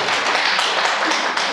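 A school audience applauds at a principal's seminar, a short burst of dense, steady clapping close by and filling the whole moment.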